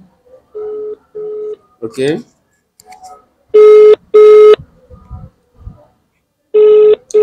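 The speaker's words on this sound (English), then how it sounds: "Okay, it's ringing." During a phone call, a telephone ringback tone sounds in evenly spaced electronic pulses, two short ones then louder longer ones, with brief dialing blips and a few spoken words in between.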